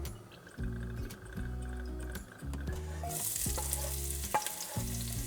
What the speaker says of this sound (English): Onion goes in. Saute for 5 to 6 minutes or until nice golden brown in color